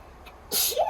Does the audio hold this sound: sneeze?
yes